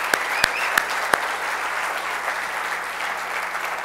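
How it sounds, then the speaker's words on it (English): Applause for a startup company at a tech conference keynote, a sustained audience clapping that begins with a few sharp, distinct claps and settles into an even, moderately loud wash. "A round of applause for them."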